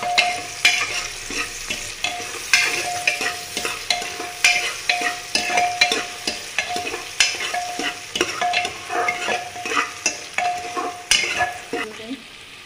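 Whole spices, dry red chillies, green chillies, cloves and cardamom fry in a pan for egg biryani, a steady sizzle broken by regular scraping stirs of a spoon, close and continuous.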